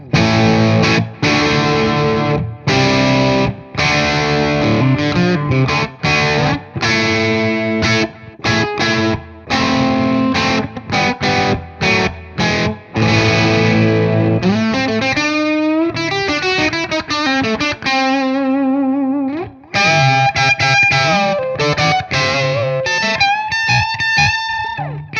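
An overdriven electric guitar through a Metropoulos Super-Plex MK II 50-watt tube amp plays chords and riffs with a gritty tone, then shifts to sustained singing lead notes.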